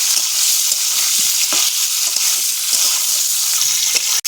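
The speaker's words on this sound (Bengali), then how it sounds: "খুব ভালো করে ফুলকপিটাকে ভেজে নেব।" Cauliflower pieces frying in hot oil in a pan, giving a loud, continuous, close sizzle with occasional stirring clatter and no talking.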